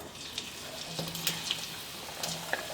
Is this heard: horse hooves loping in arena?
no